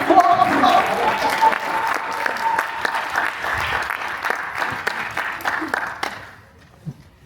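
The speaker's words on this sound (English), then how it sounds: "give her a round of applause" A crowd claps steadily for several seconds, loud at first and then thinning out as the applause fades to near silence.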